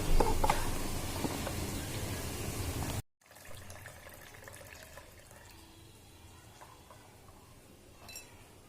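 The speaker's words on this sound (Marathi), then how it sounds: "आता हे तीन ते चार पाण्याने आपल्याला स्वच्छ धुवून घ्यायचं" Dried shrimp are rinsed in water, starting with a loud close sloshing and swirling. After a brief break the water sound continues more softly with light trickles.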